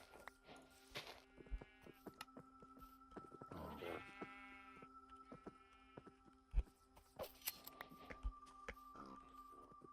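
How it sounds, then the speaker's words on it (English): Sheep in Minecraft bleat several times at moderate distance, separate calls rising over quiet ambient game noise with occasional soft thumps. "there is a hell of a lot of sheep here"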